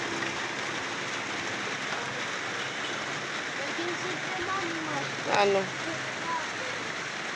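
Steady rain falling on a gloomy day at a Filipino home, a constant wash of patter close around, with a brief spoken word and a small knock partway through.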